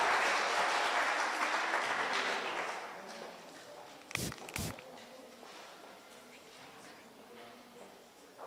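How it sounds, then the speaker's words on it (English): An audience at a youth employment conference on agribusiness claps as the panel moderator walks up; the applause is loud at first, then fades over a few seconds, followed by a couple of sharp knocks and quiet room noise. "So please give her a hearty hand clap as she comes."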